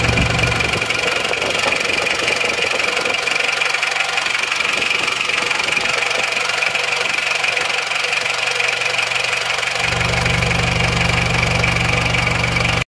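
A repaired engine fitted with a new NPR cylinder liner and piston rings runs continuously with a steady, dense mechanical rumble and knocking clatter, loud and close, its tone shifting slightly near the end.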